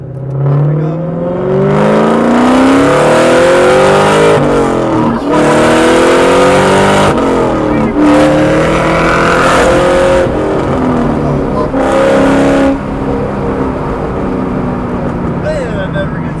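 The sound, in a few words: Terminator Cobra car driving and accelerating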